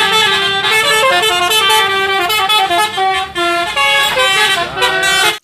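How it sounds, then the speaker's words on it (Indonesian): A toy bus plays its telolet horn, a loud, bright melodic run of honking tones that shifts pitch through a short tune and stops abruptly at the end. "Wow, lihat teman-teman, di sini ada bus telolet."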